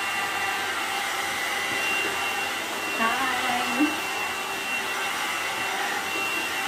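A new blow hair dryer runs steadily while drying hair, a loud continuous whooshing hum close by, with a brief greeting spoken over it.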